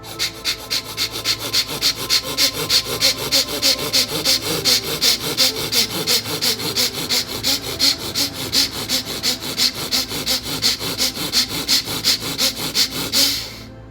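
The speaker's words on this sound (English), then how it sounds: "it's going to be very vigorous and going to be blowing out the nose" Vigorous rhythmic breathing with forceful exhalations blown out through the nose, a fast, even train of sharp huffs repeated over about fourteen seconds, close and loud, stopping abruptly at the end.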